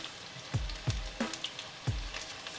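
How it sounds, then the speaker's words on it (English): Battered chicken pieces drop one at a time into 350-degree oil, each landing as a sharp sizzling burst over a quiet, steady background of frying. "Once the oil hits 350 degrees, we carefully put the battered chicken in, one piece at a time"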